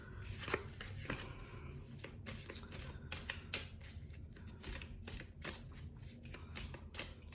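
Tarot cards are shuffled and drawn in a quiet room: a close, soft run of papery riffles and flicks that continues throughout, with no talking.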